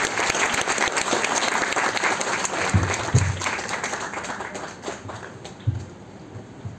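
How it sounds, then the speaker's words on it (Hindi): Loud, sustained applause from an audience at an Independence Day speech event, dense clapping filling the whole stretch with a few sharper claps standing out and slowly thinning toward the end. "जोरदार तालियों से आप स्वागत करें, अभिनंदन करें, बधाई प्रेषित करें"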